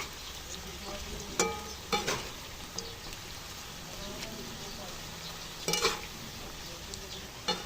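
Sugared banana chips stirred in a frying pan, a soft steady sizzle with occasional scraping clicks of a utensil against the pan, close and fairly quiet, with a voice speaking at times.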